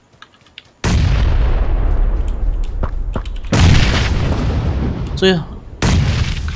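Gunfire in the PUBG battle-royale video game: loud, booming shots burst in over near silence, with a sustained roaring volley, a rapid rattling burst partway through, and another loud shot near the end, with brief voices underneath.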